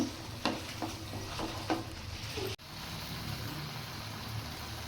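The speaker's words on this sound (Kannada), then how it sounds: "ಈಗ ಇದು ಚೆನ್ನಾಗಿ ಕುದಿಲಿ, ಈ ಥರ ತಳ ಬಿಡೋತನ ಚೆನ್ನಾಗಿ ಕುದಿಬೇಕು." A coconut and spinach palak chitranna mixture bubbles and sizzles in a pan, a steady close hiss broken by a few sharp taps of a spoon stirring, with no talk.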